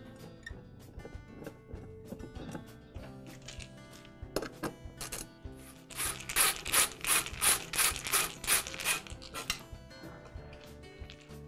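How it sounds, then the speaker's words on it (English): A power screwdriver drives four screws to fasten the cover back onto a KitchenAid stand mixer during a bowl-lift-arm repair, heard as a run of repeated mechanical whirring bursts close by after scattered clicks and handling noises. "And I'll secure the cover with the 4 screws."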